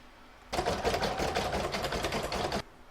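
An embroidery machine stitches steadily in the hoop on a crazy patch bag, a rapid even needle clatter that starts abruptly and runs for about two seconds before stopping, close and clear.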